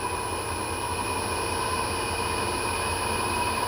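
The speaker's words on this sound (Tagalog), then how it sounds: "Yan na pinaka high speed ng motor natin." A Hyundai-brand electric motor on a variable frequency drive runs at full speed (60 Hz), giving a steady, loud whine and hum with constant pitch and no pauses.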